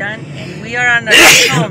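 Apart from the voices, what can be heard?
sneeze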